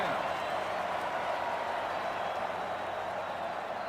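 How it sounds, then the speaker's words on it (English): A stadium crowd at an NCAA Football 2005 college game roars in a dense, continuous wash of cheering and applause, loud and sustained, with commentary voices over it. "this crowd is going absolutely insane"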